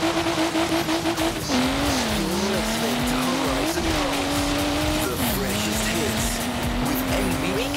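A race car in the open-world racing game Forza Horizon 3 drives hard, its engine note rising and falling through gear changes with squealing tires, loud and close, while a person talks over it.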